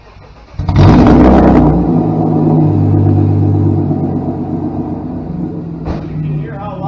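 Straight-piped engine on a 1995 BMW M3 cranks and fires on a cold start, settling into a loud, rumbling idle with a brief revving blip near the end.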